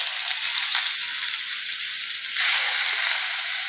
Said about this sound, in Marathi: त्यासाठी कांदा टाकून घेऊया. तेल गरम झालेले